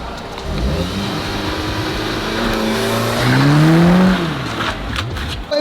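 A car launches hard under launch control, its engine droning near and loud, then climbing sharply in pitch as it accelerates before easing off.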